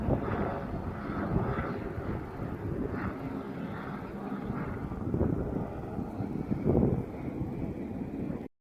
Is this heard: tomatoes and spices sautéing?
no